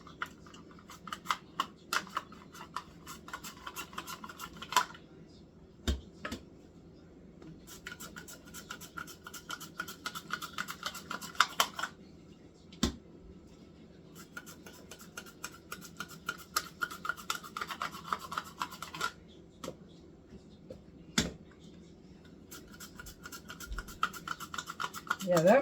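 A knife cuts squash on a board in repeated bursts of scraping and slicing, quiet and close, separated by sharp taps of the blade hitting the board.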